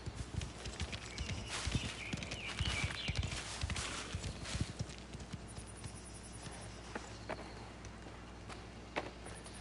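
Horse hooves clip-clop at a walking pace in the video game Mafia: The Old Country, a steady run of close, fairly loud hoofbeats over a low ambient bed, thinning out in the second half.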